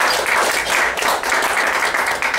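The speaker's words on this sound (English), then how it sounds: "Let's give Bill a round of applause, folks." Steady applause from an audience at a morning breakfast gathering, a dense wash of clapping that holds at an even level for a couple of seconds with no pauses.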